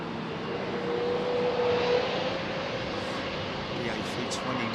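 A British Airways Airbus A380 departs Heathrow as a broad, steady jet roar holding at moderate distance, swelling slightly midway, with speech from people nearby alongside it.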